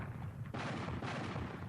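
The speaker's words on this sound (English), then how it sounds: "At that moment, there was a great sound of cannons." Heavy cannon fire from a harbour battle, booming blasts rolling one after another in a dense, loud barrage with no voices over it.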